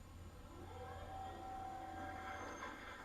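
A lightsaber sound font called Loop Train by Kyberphonics plays a steady low rumbling hum with a faint whine, mimicking the Millennium Falcon's background engine drone from A New Hope, continuous and even throughout.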